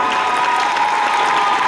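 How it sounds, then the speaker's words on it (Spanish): Steady, dense applause from an audience at a live music performance, continuous and fairly loud with no gaps. "Y también el aplauso para la parte musical"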